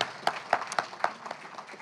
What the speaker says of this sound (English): So one more round of applause for him